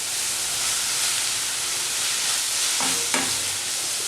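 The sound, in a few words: sautéing onions with curry leaves in a pan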